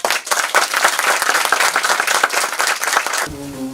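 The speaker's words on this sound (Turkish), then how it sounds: "Alkışlarınızla." Sustained applause from a children's theatre audience, dense and steady clapping for several seconds before it cuts off abruptly near the end.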